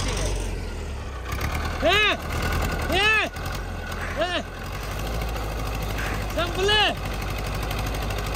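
A tractor engine runs with a low, steady idling rumble throughout, while several rising-and-falling tonal swells recur every second or so on top of it; voices are faintly present.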